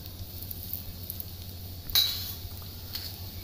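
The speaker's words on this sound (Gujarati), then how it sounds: "આપણું ઘી ગરમ થઈ ગયું છે તો એની અંદર આપણે 1/2 ચમચી જેટલું જીરું નાખી દઈશું." Cumin seeds and a pinch of asafoetida sizzle in hot ghee as the tempering for a chana dal curry: a soft, steady hiss throughout, with one sharp metallic spoon clink partway through.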